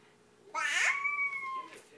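A single drawn-out cat meow with a rising then level, slightly wavering tone, clear and close, with no talking over it.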